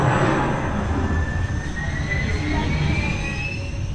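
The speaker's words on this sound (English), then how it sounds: "you'll see as the train goes past" A Vekoma roller coaster train at Disneyland Paris rushes past close by with a sustained roar and a rising high-pitched wheel squeal.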